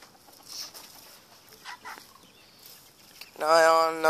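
A Chinese chicken, a small breed, clucks and chatters in short scattered bursts close by, ending in a louder drawn-out call, with a person's voice faintly in the mix.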